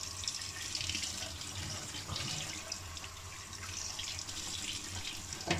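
Dirty water running steadily from a combi boiler fan motor being cleaned, a continuous close splashing flow like a tap into a sink, with no talking.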